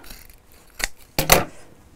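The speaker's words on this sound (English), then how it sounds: "Oh, snip, snip, snip, snip, down, snip" Scissors snip corners off a piece of material in a few sharp, close cuts: one single snip, then a quick double snip, with no voices.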